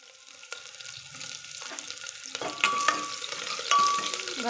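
Chopped onion fries in mustard oil in a pressure cooker, a steady soft sizzle with intermittent spoon scrapes and stirring clinks, close and moderately quiet.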